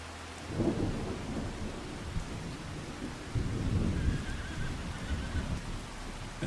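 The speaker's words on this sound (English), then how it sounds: "Is anybody listening to the thunder and lightning in the game?" Thunderstorm with rain in the farming video game Farming Simulator 25: a constant rain hiss with low rolling thunder rumbles that swell, ease off and rise again, heard alone and at moderate loudness.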